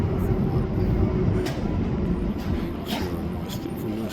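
A SkyTrain metro train between Burnaby and New Westminster, B.C., Canada, runs with a steady low rumble and rattle, moderately loud and continuous, with faint voices in the background.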